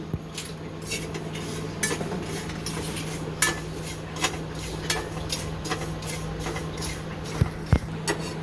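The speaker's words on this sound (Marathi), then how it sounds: "त्याच्यामध्ये मी ओवा टाकते, पहिलं ओवा भाजून घेते." Carom seeds dry-roasting in a pan, with a spoon clinking and scraping against the metal in scattered strokes over a steady low hum, fairly close and alone.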